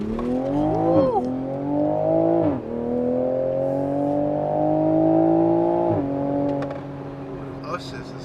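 A 2020 Toyota GR Supra 3.0 Premium Launch Edition engine in sport mode drones loudly and evenly. Its pitch climbs and drops sharply at a few shift points, heard from inside the car with no one talking.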